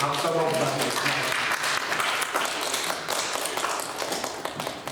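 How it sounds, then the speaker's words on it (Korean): Church congregation applauding during a worship service, a dense steady wash of clapping from many hands throughout, fairly loud and close, with some voices mixed in. "우리 박수로 감사드리겠습니다"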